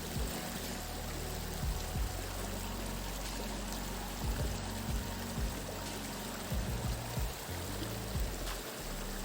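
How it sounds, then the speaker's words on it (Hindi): Cold glacier meltwater stream flowing along a long trail toward Tiger Falls near Chakrata, a steady close rush of water that fills the whole clip without pause, with no talking. "कौन सा ग्लेशियर से ये पानी पिघलते हुए आ रहा है"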